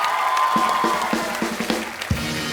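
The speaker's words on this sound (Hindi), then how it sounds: "तो एक बार ऋतिक भाई के डांस के लिए जोरदार तालियां हो जाए" Studio audience on a comedy talk show applauding loudly after a dance performance, dense continuous clapping with scattered cheers and a few sharper hits standing out.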